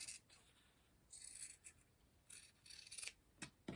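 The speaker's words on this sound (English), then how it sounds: "And then I'm going to take my scissors and cut out on that drawn line" Scissors snip through fabric along a drawn line in short bursts of crisp, close cutting, with quiet pauses between strokes.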